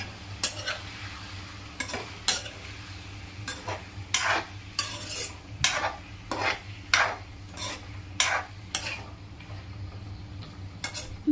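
Onions and chicken frying in a pan, a soft steady sizzle under repeated sharp scrapes and clinks of a spoon stirring, close up with no voices.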